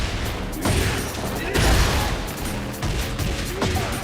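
Wall-breaking explosions and heavy impacts in a Tekken 8 fighting-game tournament match, a dense run of loud crashing blasts with bursts near 0.6, 1.6 and 2.8 seconds over continuous game noise.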